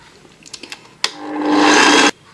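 A kitchen mixer or food processor whirs loudly for about a second, mixing pizza dough of T150 flour, salt and olive oil, after a few soft clicks and taps; it starts abruptly and cuts off cleanly.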